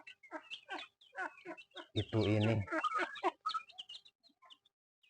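Free-range village chickens clucking close by in a rural Indonesian yard, with repeated short clucks and one louder drawn-out squawk midway, while a person speaks briefly.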